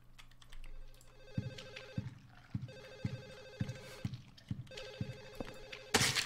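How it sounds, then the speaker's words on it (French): In the Silent Hill 4 video game, a telephone rings in a neighbours' apartment, repeated muffled trilling rings heard as through a wall, mixed with regular thudding knocks and a sharp burst at the end. "on entend les téléphones des autres"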